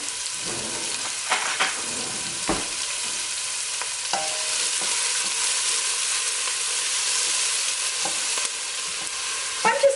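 Onions sweating in oil in a big soup pot on the stove give a steady, soft sizzle, close by, with scattered scrapes and knocks of a spoon stirring them and a clink near the end.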